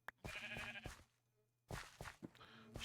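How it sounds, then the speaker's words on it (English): Two sheep bleats from Minecraft, heard faintly and fairly close with a short gap between them, each a wavering, nasal baa. "Sheep."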